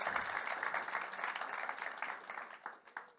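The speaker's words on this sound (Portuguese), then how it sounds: "vamos receber com muitos aplausos Ivelisse Fortin." An audience at a games-careers panel applauds to welcome a panelist on stage, a steady burst of many clapping hands that fades into a few scattered claps at the end.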